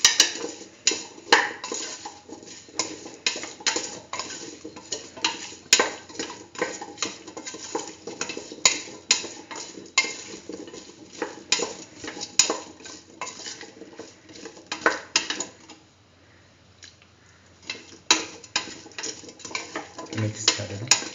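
A spoon stirs split chickpea and chayote stew in a pot, steady scraping and clinking against the pot in a busy rhythm that runs almost continuously, with a short quieter pause near the end.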